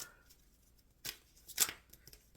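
Tarot cards being shuffled, heard as two or three soft, brief riffling bursts in an otherwise quiet room.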